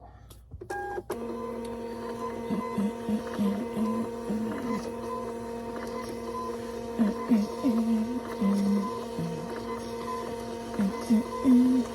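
A label printer feeds out shipping labels at a reseller's packing setup, a steady mechanical whir with short stuttering bursts and clicks that grow busier toward the end.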